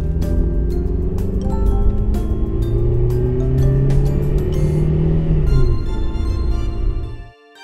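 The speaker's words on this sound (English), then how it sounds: "Caravan fire chief car." Toy caravan fire chief car running with a steady engine rumble and rising whine, continuous and close for about seven seconds before cutting off abruptly.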